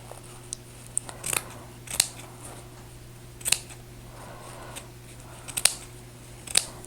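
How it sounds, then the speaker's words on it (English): Scissors snip out a piece of fabric for a mixed media book, a series of sharp, close crisp cuts spaced irregularly over a low steady hum, with no speech. "I think we're just going to cut it out."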